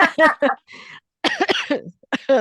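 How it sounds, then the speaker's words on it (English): A person coughs, close and fairly quiet, between bits of talking. "sorry, it's making me cough."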